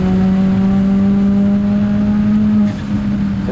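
A Ford Fiesta ST with a pressure problem, driven hard around the Circuit de Bresse, gives a loud, steady engine drone close by that holds an even pitch, then eases slightly near the end.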